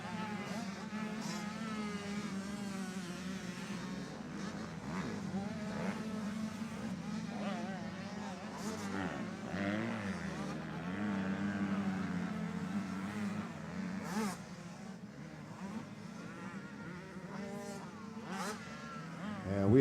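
Motocross motorcycles racing on the opening lap at Winchester Speedpark, a steady mid-pitched engine drone from several bikes that swells and fades in waves, continuous throughout with a commentator talking over it.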